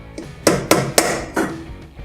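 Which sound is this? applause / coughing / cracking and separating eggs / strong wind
cracking and separating eggs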